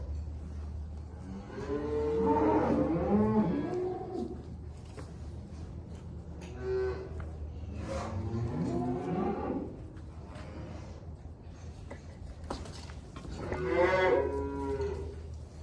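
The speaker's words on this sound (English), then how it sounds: "So Brian's gonna put the CIDRs in the cows." Cows lined up in a cattle pen during breeding work give three long, loud moos a few seconds apart, over a low steady background hum and no speech.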